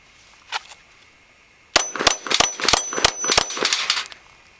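Pistol shots from a Glock 19 Gen 4 ringing off steel plates: one faint early hit, then a rapid string of about six sharp metallic clangs in quick succession, loud and near, with no talking.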